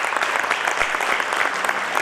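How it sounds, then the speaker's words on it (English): Audience at a community prevention meeting in Philadelphia breaks into steady, dense applause, a continuous wash of many hands clapping close by for about two seconds with no voices. "We can clap for that."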